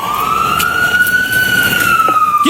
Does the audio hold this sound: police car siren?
yes